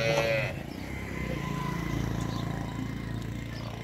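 Ravi buffalo on a farm in Pakistan, with a short, louder animal call at the start followed by steady low farmyard ambience and no talking.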